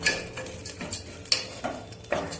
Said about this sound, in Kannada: ಈಗ ಜೀರಿಗೆ ಹಾಕಿ ರೈಸ್ ತೊಳೆದಿರ್ತಕ್ಕಂಥದ್ದು ಹಾಕಿ ಫ್ರೈ ಮಾಡ್ತಿದ್ದೀನಿ.